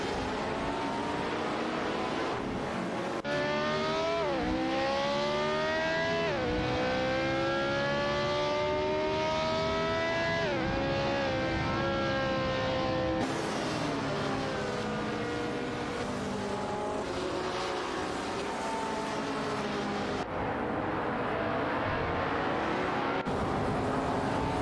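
Race car engines in a racing video game scream through repeated rising revs and gear changes, with cars whooshing past, loud and continuous with no talk.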